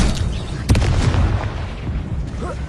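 Incendio fire spell cast in Hogwarts Legacy, heard as a sudden booming burst of flame that settles into a rough, rumbling roar, then slowly fades.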